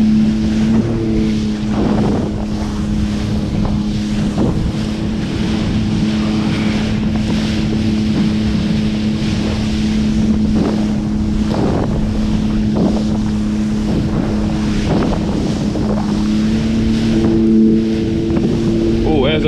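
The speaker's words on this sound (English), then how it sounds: "the waves are going left and right" Rough swells on Lake Erie slap against a motorboat near a lighthouse, with repeated dull hull thumps under steady engine drone and heavy wind buffeting the microphone, while people talk faintly.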